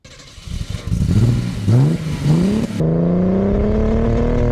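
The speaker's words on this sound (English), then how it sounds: "So the car sounds like this." A 1960s Mercedes 230 SL Pagode (W113) revs close by, its engine note rising and falling through several blips before settling into a steady, loud idle-like drone with no voices.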